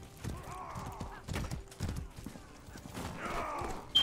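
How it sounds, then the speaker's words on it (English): Galloping horse hooves in the medieval combat game Mordhau, a run of quick rhythmic thuds among other battlefield noise, with a voice talking intermittently over them. "Oh, horse."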